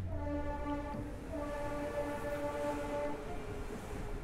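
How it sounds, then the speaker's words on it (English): A video game train's sustained horn blares in long harmonic tones over a low rumble, cutting briefly and resuming, like a locomotive passing nearby. "The train, it's come back for me."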